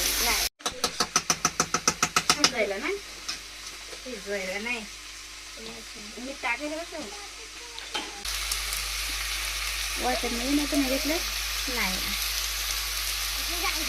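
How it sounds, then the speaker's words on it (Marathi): Fish frying in stone-ground masala on a wood-fired clay stove gives a steady, close sizzle under ongoing conversation, with a brief burst of rapid clattering pulses at the start. "मसाला तळून झालाय आणि मासे पण वहिनीने बघा टाकले त्याच्यामध्ये"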